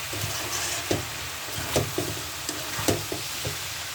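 Bain (eel) fish chorchori frying on a high flame: steady sizzle with repeated spatula scrapes and knocks against the pan, close and moderately loud, no talking.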